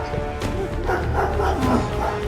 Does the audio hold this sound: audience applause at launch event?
no